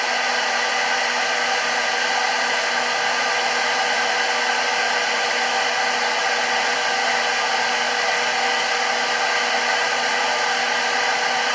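Hair dryer blowing with the heat on, a loud, steady roar of rushing air with a constant motor whine, close and unchanging for the whole stretch.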